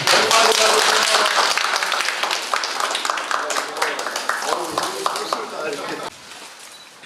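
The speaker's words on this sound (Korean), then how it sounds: "김만주 시장님 큰 박수로 환영해 주십니다." Loud applause welcoming a mayor at a community dialogue session in a Korean neighborhood, a thick burst of clapping that gradually thins, with voices mixed in and a quieter tail.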